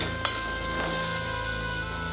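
Vegetables temper in hot oil, a continuous close sizzle and crackle of frying with a few faint stirring scrapes, heard alone without talk.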